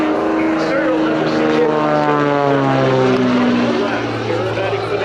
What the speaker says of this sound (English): The Jim's Bonanza is powered by a stock out of the crate 300 horsepower Continental IO550, turning a Hartzell 3-blade Super Scimitar propeller.